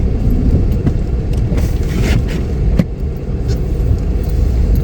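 A car driving through deep snow during a Canadian winter gives a steady, loud low rumble of engine and road noise with a brief bump near the middle, and nobody speaks.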